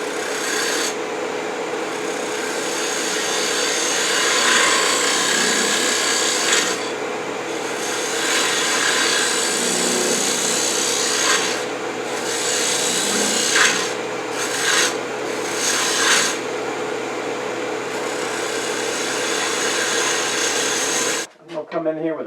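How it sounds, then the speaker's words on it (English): A 1/2 inch spindle gouge cutting a wooden hemisphere on a woodturning lathe, a continuous raspy scraping hiss over the lathe's steady hum, breaking off into brief gaps as the tool lifts and ending abruptly. "Now I start shaping the hemisphere. I'm using a 1/2 inch spindle gouge."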